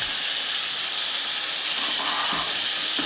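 Potatoes added to onions frying in oil in a pan, a steady loud hiss of sizzling throughout with no pauses or voices.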